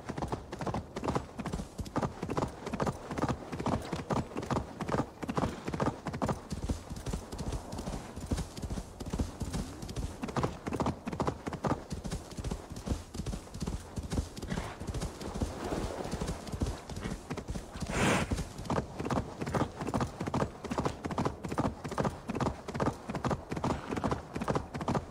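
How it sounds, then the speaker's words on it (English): Horse hooves clip-clop in a steady, continuous rhythm as the horse moves through a settlement in the video game Assassin's Creed Valhalla, moderately loud throughout with faint game sounds underneath. "Just hearing the horse stomp throughout the baseland"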